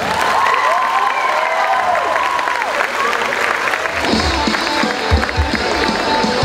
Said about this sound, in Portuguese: Palmas pra eles.